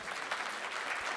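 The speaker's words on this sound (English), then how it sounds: "Give him a round of applause." A conference audience at a healthcare innovation summit claps steadily in a dense, even wash of applause, heard briefly and at moderate distance.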